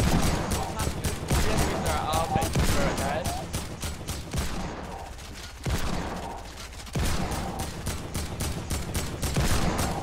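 Sustained spraying rifle fire in Fortnite, loud and close, with rapid shots packed tightly together for several seconds. The fire briefly thins out midway, then resumes just as dense.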